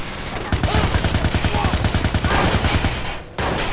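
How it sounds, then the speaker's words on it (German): Rapid automatic gunfire in Watch Dogs, a loud, even machine-gun burst of evenly spaced shots running for nearly three seconds before it cuts off. "Worauf schießt du?"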